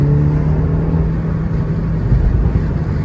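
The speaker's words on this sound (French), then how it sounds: "Voilà, essayez de la faire pétarader." A car engine rumbles and revs steadily nearby, loud and continuous, with faint irregular crackles from the exhaust hard to pick out; no talk.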